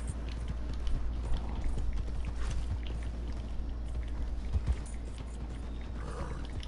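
Horse hooves clip-clop in Red Dead Online, a steady patter of soft, muffled footfalls running the whole stretch under a low rumbling background, moderately close and fairly even in level.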